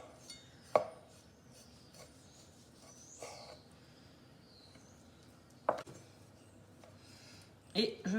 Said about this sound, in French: Je vais parer les cuisses, je vais enlever un petit peu le surplus de gras.